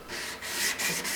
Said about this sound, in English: take that nicely filed edge, and we're going to start by honing the face